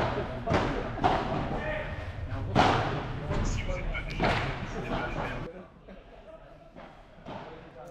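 Padel ball struck during a serve and rally in a ranking match, several sharp hollow thuds at irregular intervals, close by, with voices talking between hits.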